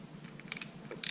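A hand ratchet with a socket clicks through a few quick, faint pawl clicks as it is turned to tighten.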